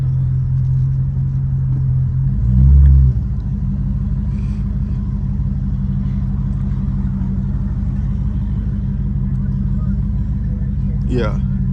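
Catless Dodge Hellcat engine rumbling low and steady through the cabin as it accelerates, with a brief louder surge early on, while people talk over it.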